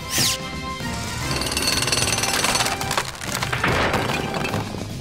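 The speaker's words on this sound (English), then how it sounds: "Jackhammer!" A cartoon jackhammer from a PAW Patrol rescue, rattling loudly and continuously for several seconds alongside cracking and splintering debris, with no talk over it.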